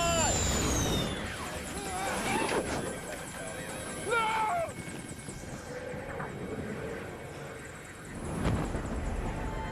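A helicopter's rotor roar fills a war film scene with engine drone, while voices shout over it and sharp bangs punctuate the noise.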